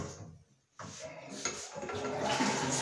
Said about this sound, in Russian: Спускаем бачок